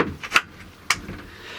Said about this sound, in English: Let me just secure the door.